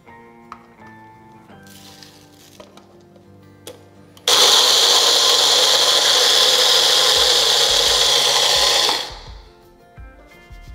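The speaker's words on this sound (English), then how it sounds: "we're gonna start grinding these up" Crystallized maple sugar is ground in a small appliance, giving a loud, steady buzzing whir of about five seconds that starts abruptly and stops cleanly, with faint handling clicks before and after and no talk.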